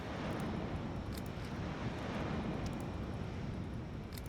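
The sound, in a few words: aircraft engines of planes taking off in video game Highfleet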